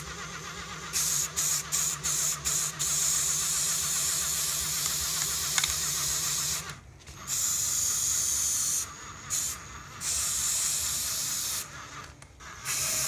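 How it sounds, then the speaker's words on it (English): A spray paint can hisses in bursts onto an object turned by a drill-powered mixer. Short quick sprays come first, followed by longer sustained blasts with brief pauses, over a low engine-like hum and no talk. "So now I'm just going to turn the drill on low setting. And we're just going to spray it."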